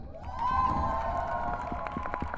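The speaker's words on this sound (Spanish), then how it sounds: "les pediría un fuerte aplauso" A panel audience cheers and applauds to welcome a host, a steady wash of clapping and whoops that swells early and holds loud for a couple of seconds.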